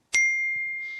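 A single bright ding from a phone's message notification rings out sharply and then lingers as a clear, slowly fading tone.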